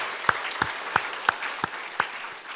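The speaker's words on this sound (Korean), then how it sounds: "다시 한번 박수 한번 하고 말씀 듣겠습니다." A church congregation at a Sunday evening service applauding, with a steady wash of clapping and several louder, sharper claps standing out in a roughly even rhythm.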